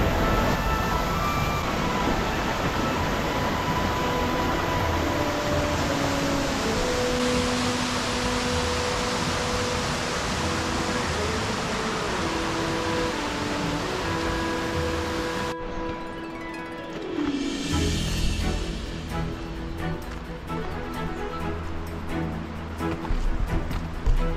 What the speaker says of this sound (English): Just stopped at a little waterfall.